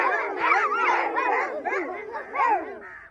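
A person imitates a dog with a run of howling, yipping barks, close and loud, wavering up and down over about three seconds.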